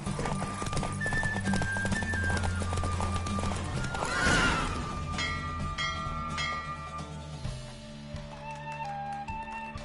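Horse hooves gallop in a steady clip-clop rhythm during a race in The Witcher 3, with a whinny partway through, over game music and ambient sound; no speech.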